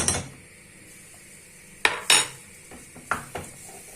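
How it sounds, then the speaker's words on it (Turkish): Tomato paste is sautéed in a pan for soup, with a soft background sizzle and several sharp metallic clinks of a utensil against the pan. "Bunu beraber güzelce kavuruyoruz."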